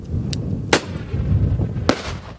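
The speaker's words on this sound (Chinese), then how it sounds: "巴黎奥利机场人员对空发射炮声，草埔的鸟仔马上散开" A bird-scaring cannon fired into the air on the grass at Paris Orly airport, two sharp, loud booming cracks about a second apart over a low outdoor rumble.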